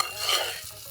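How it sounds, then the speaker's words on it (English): A spoon stirs food in a tiny pan in a miniature pink kitchen, a soft continuous scraping swirl with faint sizzling, close and quiet, with no voices. "let's mix it"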